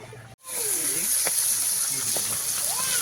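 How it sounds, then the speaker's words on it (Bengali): Fish frying in oil in a large wok over a home cooking fire, a steady loud hiss and sizzle with faint crackles, as a voice talks over it. "কড়াইতে মাছ ভাজা চলছে"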